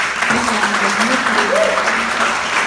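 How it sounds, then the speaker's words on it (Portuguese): Church congregation applauding first-time visitors during a worship gathering, a steady wash of clapping from many hands lasting the whole moment, with a voice faintly audible over it. "Vamos aplaudir, gente?"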